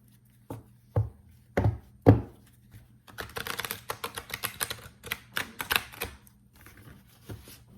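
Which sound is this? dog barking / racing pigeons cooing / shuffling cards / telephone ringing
shuffling cards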